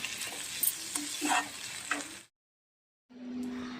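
Chopped tomato and onion are stirred and fried for a potato bhaji, with a crackling sizzle and spatula scrapes, then a brief silence before the steady frying returns.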